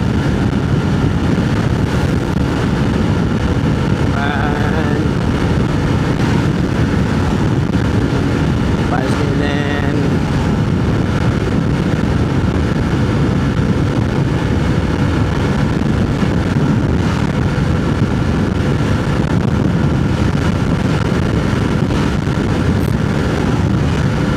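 A Honda ADV350 scooter runs flat out at top speed, its engine drone buried under heavy, constant wind roar from start to finish.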